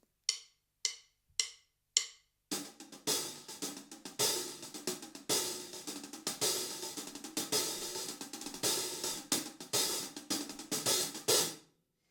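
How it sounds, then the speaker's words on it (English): A relaxed drum groove after a few sharp count-in clicks, steady kick and snare with a slightly open, sizzling hi-hat washing over the backbeats. "on 2 and 4, I'm going to lift the hi-hat very slightly"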